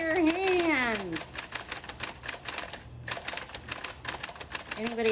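A Smith Corona Coronet Coronomatic typewriter clatters with a rapid, uneven run of sharp key strikes, briefly pausing mid-way before resuming, while a voice talks over the start and end.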